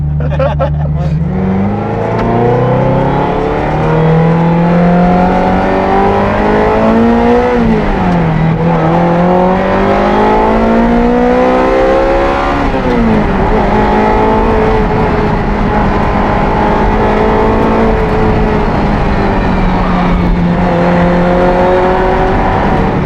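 A Ferrari F355 Challenge race car driven on an open road, its engine loud and close, revving and accelerating through several rising gear pulls with shifts between them, while people talk over it.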